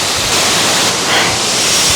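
Thommankuthu waterfall in a forest pours in a loud, steady roar of rushing water, a dense unbroken wash of sound close at hand with no voices.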